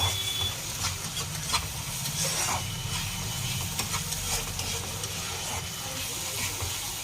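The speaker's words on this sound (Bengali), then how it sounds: "ভালো করে কষে নিচ্ছি।" Masala for prawn malai curry sautéing in a pan: a steady, close sizzling hiss with soft stirring scrapes running throughout, no voice.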